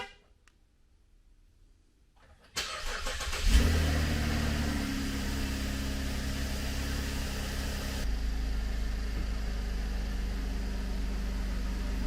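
A damaged Cadillac CTS starts up after a brief quiet moment, then its engine roars into a steady, fairly loud idle and drives on with a constant drone.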